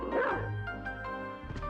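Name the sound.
dog barking in Castlevania: Symphony of the Night video game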